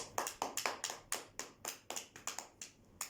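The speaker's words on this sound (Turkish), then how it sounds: "Aferin, alkış." Hand claps, about fifteen sharp ones in an uneven, quick rhythm, close and fairly quiet, with no one talking over them, right after a children's song at home.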